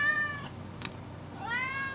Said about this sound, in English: now that we continue with a cat joining us, he's going to pipe up for a while